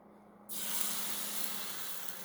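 After a brief quiet moment, crepe batter hits a hot frying pan with a sudden loud sizzle that keeps hissing steadily, close by.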